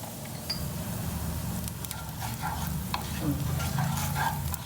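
Cumin seeds and chili frying in ghee for an ajwain leaf chutney, a steady close sizzle with light stirring and scraping throughout.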